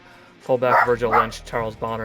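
Small dog barking and yipping in a room, several sharp close barks with a whimpering edge, overlapping a man reading out a football team roster.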